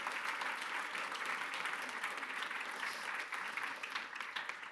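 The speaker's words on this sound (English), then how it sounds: "Give please a warm applause for our panel members." Listeners at a forum applaud the panel members, a sustained wash of steady clapping from a sizable crowd that holds for several seconds, then begins to taper.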